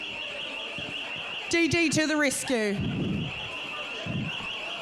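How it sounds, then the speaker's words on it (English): An alarm sounds as a steady high-pitched tone through the whole stretch at a large outdoor iwi gathering, with people talking over it. "Who set off the alarm?"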